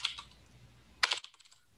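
Quick bursts of typing on a computer keyboard, a short cluster of close, crisp key clicks at the start and another sharp flurry after a pause, then near-silence.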